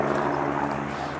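A small airplane or helicopter passes near an airfield in Yao, a steady broad engine drone heard at a moderate distance with no other sounds over it.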